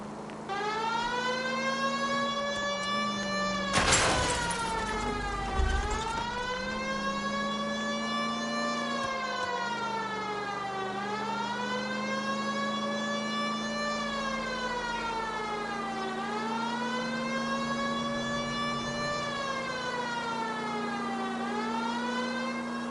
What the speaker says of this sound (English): You know we've got a siren, Phelps.